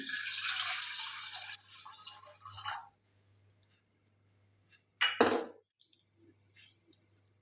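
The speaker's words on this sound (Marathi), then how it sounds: "ते तांदूळ स्वच्छ धुवून घेऊ" Water splashes and swishes as rice is rinsed in a bowl, then a quiet pause and a sharp burst of water sloshing near the end.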